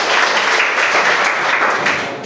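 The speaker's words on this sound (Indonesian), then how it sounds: "Kita beri aplaus dulu untuk regu B." An audience of students applauds for team B at a school science quiz competition, a steady, dense burst of clapping that stays loud throughout, with no talk.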